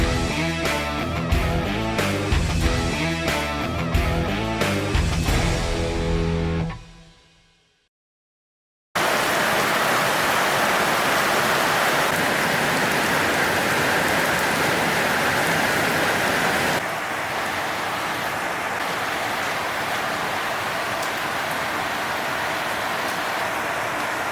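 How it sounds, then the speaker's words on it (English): Rain falling outside, a dense, steady hiss of downpour heard after a burst of loud music fades out, continuing evenly and fairly loud with no talking. "Alright, let's check out the rain."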